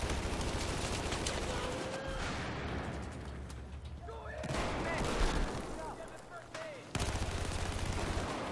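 Gunfire in a Battlefield 4 multiplayer match on Hainan, bursts of rapid shots and booms mixed with game noise, with someone talking over it.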